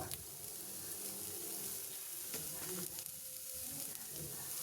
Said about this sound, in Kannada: ಇವಾಗ ಅದಕ್ಕೆ ಕಟ್ ಮಾಡ್ಕೊಂಡಿರೋಂಥ ತರಕಾರಿಗಳನ್ನ ಹಾಕಿ ಮಿಕ್ಸ್ ಮಾಡ್ಕೊಬೇಕು